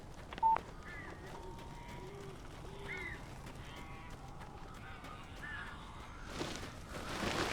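Crows cawing in the video game Alan Wake, several hoarse calls repeating over a few seconds at moderate distance against a low ambient hum, with a brief beep near the start and rising noise at the end.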